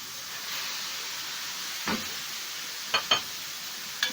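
Chicken pieces with onion frying in hot ghee and oil give a steady, faint sizzling hiss, broken by a few soft stirring scrapes near the end.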